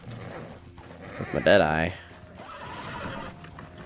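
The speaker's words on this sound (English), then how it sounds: "we're gonna push this horse. Oh yeah, this is a good horse" A horse in the video game Red Dead Online gives one loud, close whinny in the middle, with hoofbeats and game ambience running throughout and a brief spoken line just before the whinny.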